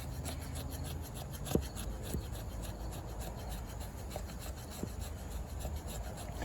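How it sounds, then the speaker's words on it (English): A Condor kukri knife scrapes shavings from a piece of fatwood in repeated rasping strokes, close and steady, with a few sharp ticks among the scraping. "I'm just gonna see if I could scrape some shavings over here up the fat wood."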